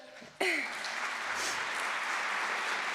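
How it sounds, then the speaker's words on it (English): Audience in Calgary applauding a line about an oil major leaving carbon in the ground, a steady wash of many hands clapping that swells suddenly after a brief voice and continues evenly. "that line got applause in Calgary"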